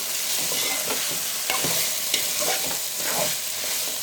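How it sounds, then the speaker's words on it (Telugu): Boiled mutton being stirred into frying masala for a mutton gravy curry, a loud continuous sizzle broken by repeated scraping stirs of the pan, close up with no talking. "ఉడికించిన మటన్ యాడ్ చేసుకున్నాను. ఒకసారి మిక్స్ చేసుకుందాం."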